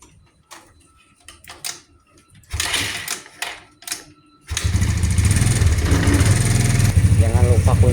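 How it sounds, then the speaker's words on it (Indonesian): A motorcycle engine is warming up at idle in the morning, running loud and close with a steady rumble for the second half, after a stretch of scattered handling noises and brief talk. "lagi siap-siap manasin motor dulu ya guys"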